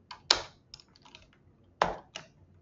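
A few isolated keystrokes on a computer keyboard, two sharp louder taps with softer clicks between them, close and clear against a quiet background with no speech.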